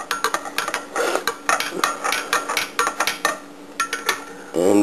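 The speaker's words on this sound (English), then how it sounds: "Here I am mixing." A spoon stirs sugar into homemade lime lemonade, clinking steadily and rapidly against the container in close, loud repeated strikes for several seconds, alone without talk.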